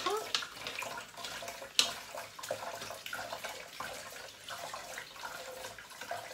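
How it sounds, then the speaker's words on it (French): Filtered water runs over food in a colander at a kitchen sink, a steady, fairly faint splashing and trickling stream with a few louder sputters, while no one speaks. "au début, je les rince à la passoire"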